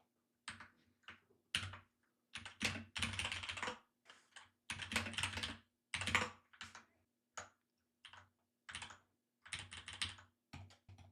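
Typing a command on a computer keyboard at a desk: about a dozen quick bursts of clattering keystrokes, close and distinct, separated by short pauses, with no talking.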